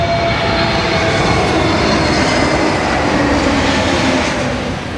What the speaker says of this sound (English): Just thought I'd catch a low-flying plane coming into land